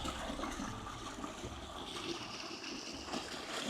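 Steady, full rush of the Orneau river flowing alongside a hiking trail, a continuous close broadband wash of moving water with no voices.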